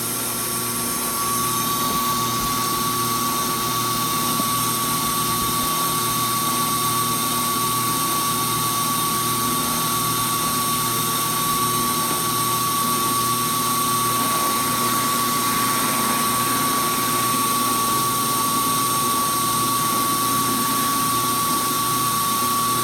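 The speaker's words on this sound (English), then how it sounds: "I'll turn my shop vac on" A shop vacuum runs steadily in a workshop beside a drill press table and spindle sander, a loud, unbroken whining drone that holds for the whole stretch.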